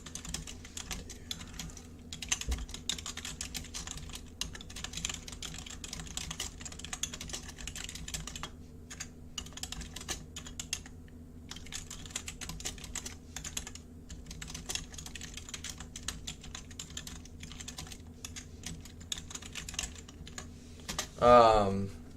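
Rapid, continuous clicking of a computer keyboard goes on for a long stretch, close and fairly quiet, with short pauses between bursts of keystrokes and a brief voice near the end.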